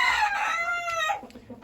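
A rooster crows loudly in a winter chicken coop, one long drawn-out call, followed by softer hen clucks close by.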